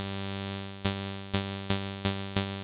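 A steady, buzzy TAL NoiseMaker software synthesizer drone holds one pitch, broken by five sharp percussive clicks spaced roughly evenly through the second half.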